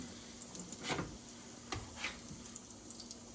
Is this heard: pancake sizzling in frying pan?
yes